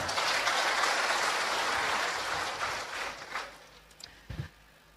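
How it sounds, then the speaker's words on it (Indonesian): An audience at a village officials' ceremony claps loudly, then the applause thins out into a few scattered claps before fading. "Ketua Oku Timur, Firdaus, tepuk tangan"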